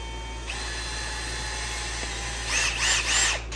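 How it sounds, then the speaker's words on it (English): A power drill whines steadily as it drives a drywall screw into the oil pump barbell of a Chevy Suburban LS engine, the motor note pulsing in three short surges near the end. "with a drill"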